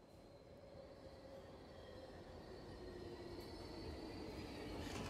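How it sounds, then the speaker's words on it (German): Train ride in the video game The Outlast Trials: a steady rumble of rolling wheels with faint squealing and rattling, growing slightly louder throughout, no voices. "Ach, wir fahren mit dem Zug."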